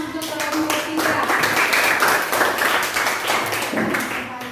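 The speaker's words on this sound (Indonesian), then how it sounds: "kita beri tepuk tangan untuk kelompok 3" Classroom applause for a presenting group, a steady burst of many hands clapping together at close range that fills the room and continues throughout, with some voices mixed in.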